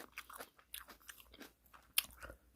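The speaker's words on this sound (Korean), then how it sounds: "아삭아삭 시원하고 맛있다" Canned kimchi is bitten and chewed close up, giving a series of short crisp crunches with one sharp louder snap near the end, alone without talk.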